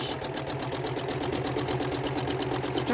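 A sewing machine runs a straight stitch along a quilt block's seam line with a fast, even needle chatter that stays close and steady throughout, no voices over it.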